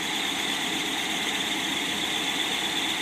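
Ford Y-block V8 idling at about 1000 rpm, not yet warmed up, with a steady, even engine drone and a constant high-pitched whine or fan hiss running unchanged throughout, close and continuous with no talk.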